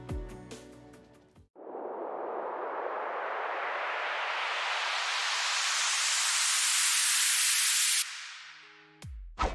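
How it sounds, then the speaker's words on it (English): A synthesized white noise riser made with the 3x OSC plugin in FL Studio, with reverb, rises steadily in pitch and brightness for several seconds, then cuts off abruptly, framed by brief musical notes at either end. "Finally, add reverb again and you're done with a white noise riser."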